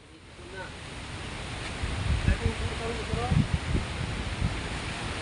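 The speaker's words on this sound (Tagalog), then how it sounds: "Lakas ng hangin." Strong wind blowing outdoors, a broad roaring rush buffeting the microphone, with low gusty thumps and a faint voice calling in the background.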